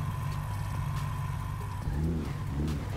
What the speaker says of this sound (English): I was launching the car, and it was it bogged the launch